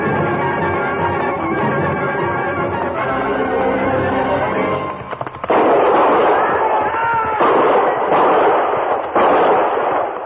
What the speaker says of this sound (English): I knew from the sound of that first volley what had happened.